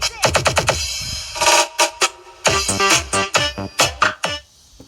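Music played through D50 Bluetooth amplifier speakers, with punchy, percussive notes in quick bursts and short pauses, loud and clear with no talking over it.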